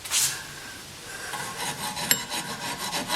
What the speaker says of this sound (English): Give a couple of strokes of the file.